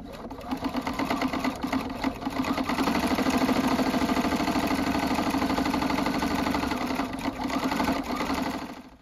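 A sewing machine top stitching around the edge of a fabric mug cozy, a steady close mechanical whirr with rapid needle clatter running continuously for several seconds.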